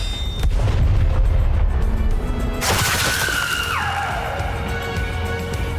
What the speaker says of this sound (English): With another tremendous blast from that shakes the ground, a massive beam erupts from the cannon, piercing through the massive object.